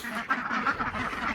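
Ducks quacking in their spacious pen on a homestead, a busy overlapping chorus of nasal quacks at close range, several birds calling in quick succession.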